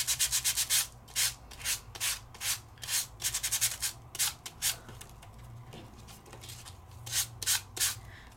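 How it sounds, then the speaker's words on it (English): A piece of sandpaper is rubbed over embossed vellum card, giving rapid bursts of close, dry scratchy strokes in quick clusters with brief pauses between them. "and the magic is a piece of sandpaper"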